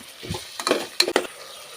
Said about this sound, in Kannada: ಟೊಮೊಟೊನೂ ಸ್ವಲ್ಪ ಫ್ರೈ ಆಗಬೇಕು.